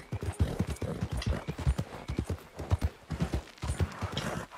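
Horse hooves gallop in Red Dead Redemption 2, a steady rapid clip-clop of heavy thuds close by, running continuously with no talking.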